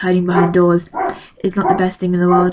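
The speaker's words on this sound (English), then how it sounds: "That's my dog barking because the doorbell went." A pet dog barks several times in short bursts after a doorbell rings indoors, mixed in with a person talking close by.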